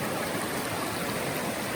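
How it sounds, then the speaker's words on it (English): A shallow stream on a hiking trail washes steadily over bare feet and ankles, a close, continuous broadband rush of flowing water with no voices. "Just get this water flowing over my feet and ankles."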